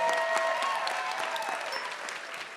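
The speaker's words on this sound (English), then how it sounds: "Can we have another lovely round of applause for our" Audience at a teen poetry slam semi-final clapping warmly for the MC, a steady round of applause at moderate level that gradually tapers off.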